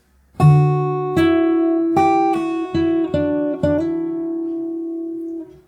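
A fingerpicked guitar plays the final bars of the outro of a song: a few plucked chords and notes spaced about a second apart, ringing out close and alone, with the last tone left to sustain and fade.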